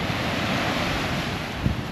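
Sea waves at a beach in Cebu roll and wash in a steady, loud broadband roar, with wind buffeting the microphone and no speech.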